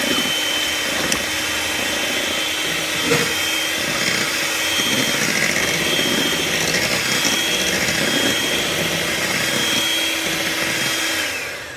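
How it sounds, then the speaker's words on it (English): An electric hand mixer beats pumpkin pie filling for Thanksgiving baking, giving a steady close whirring drone that runs the whole time with small shifts in pitch and no talking. "then mix it a little bit with my mixer"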